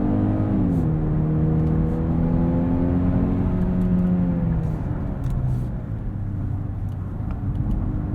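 A 2021 Genesis GV80 RWD 2.5T pulls hard from a stop in sport mode. Its engine note rises loud and close through the gears, with a clear shift dip partway, heard from inside the cabin.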